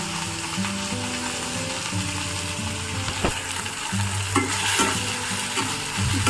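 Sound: stirring and mixing leafy vegetable curry in a pan

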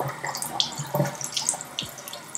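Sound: washing hands under running tap water

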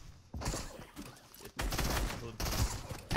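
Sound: gunfire shooting at decoys in Fortnite video game

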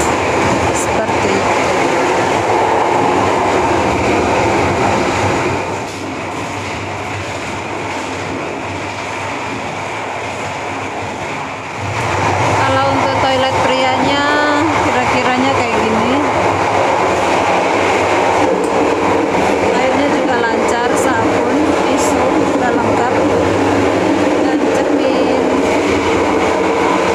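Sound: inside Sancaka economy premium train, Jogja to Surabaya

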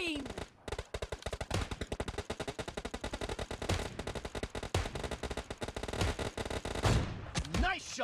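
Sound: Kar98 rifle gunshots in PUBG, from a video game

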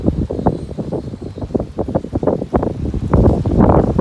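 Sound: strong wind

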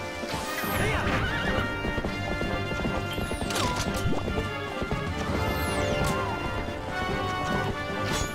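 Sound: horse galloping and neighing in video game Zelda Twilight Princess

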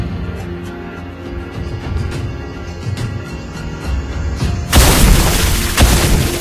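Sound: turret destroyed explosion in Mobile Legends video game

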